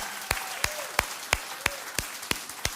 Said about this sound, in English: can we give them a round of applause for putting this together?